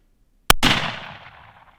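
A single sharp rifle shot fired at a shield built from garbage, a hard crack followed by a ringing, decaying impact tail lasting over a second, loud and close in otherwise quiet surroundings.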